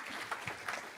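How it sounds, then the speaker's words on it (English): Applause from a conference audience at a media industry event as panel speakers from CVS Media and Lyft Media come up, a brief, fairly quiet patter of clapping with no talk over it. "Round of applause, please."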